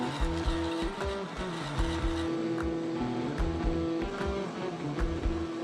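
Hole saw grinding slowly through steel on a shipping container, pushed hard at low RPM: a steady close droning whine with a low, pulsing chatter running throughout, with no talk.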